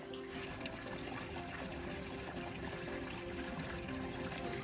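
Water from a sulfur spring in Bulacan flows and splashes continuously, a steady gushing stream with no voices.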